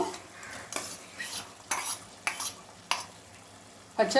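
A spatula stirs dal into a pan of cooked eggplant curry, making about six distinct scraping, clattering strokes against the pan over a low background, with no talking.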